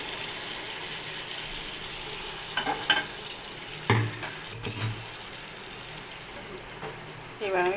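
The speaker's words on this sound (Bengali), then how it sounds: "এবার আমি ডালটা ঢেলে দেবো গ্যাসের ফ্লেমটা আস্তে করে নিয়েছি না হলে ছিটবে" Lentil dal poured into a hot pan with shrimp over a low gas flame, giving a steady soft sizzle with a few louder splashing bursts and clinks through the middle.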